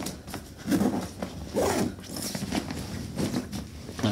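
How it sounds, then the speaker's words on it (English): A Cotopaxi Allpa travel pack being zipped closed after folding, with several rasping zipper pulls in bursts, close and fairly loud, with faint handling rustle between strokes. "So I'm gonna fold this up and zip this up."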